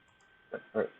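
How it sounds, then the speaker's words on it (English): Two quick computer mouse clicks, the second slightly louder, over a faint steady hum while a space strategy game is played on a PC. "Oh, I was clicking on the wrong thing."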